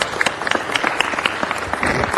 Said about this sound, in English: Please give her and AT&T a big round of applause for helping sponsor this event.